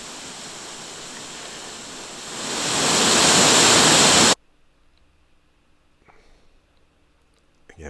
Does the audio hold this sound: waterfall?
yes